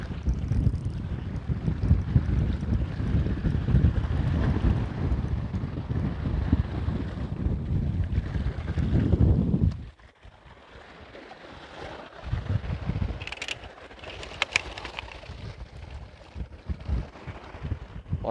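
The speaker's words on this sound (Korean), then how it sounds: "지금 바람도 많이 불고 비도 조금씩 날리고 있는데" Strong wind gusts roar by the sea during a fishing trip in light rain, a loud buffeting rush that drops to a quieter, gustier hiss partway through.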